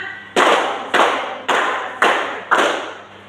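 Five sharp, evenly timed hand claps from a classroom clap game, close and loud, each one decaying briefly in the room.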